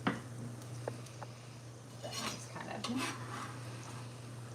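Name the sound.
stirring vegetables sauteing in a pot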